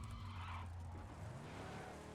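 A car in PUBG skidding and flipping over, a loud continuous engine roar with tire-scrub noise that shifts in pitch midway, no talking.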